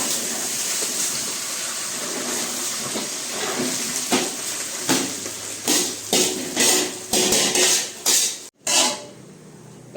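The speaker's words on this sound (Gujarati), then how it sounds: "હવે ફટાફટ આ જે ભાત છે એ નાખી દઈશું" Cooked rice tipped into a pan of cumin tempering with the gas off, giving a steady hiss under loose clattering and scraping that turns into sharper, separate knocks near the end.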